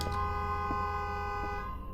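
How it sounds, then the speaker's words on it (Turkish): A steady car horn blares continuously in the horror video game Night Kebap, a loud sustained tone with a couple of faint thumps underneath. "Korna falan çalıyor."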